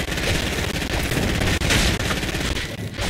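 Rapid automatic gunfire from a Fortnite gunfight, likely a gold AK, rattles continuously and loudly for a few seconds with almost no pauses.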